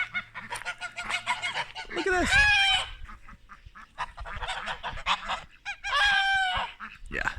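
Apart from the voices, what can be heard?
geese honking loudly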